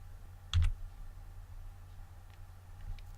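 A computer mouse clicks twice in quick succession, close and fairly crisp, during rigging work in Blender 2.7, followed by near silence with a faint hum.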